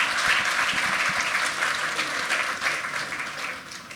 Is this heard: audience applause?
yes